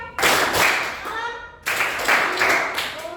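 A classroom of children clapping together in a rhythm game, two bursts of quick hand claps, loud and close, with young voices mixed in.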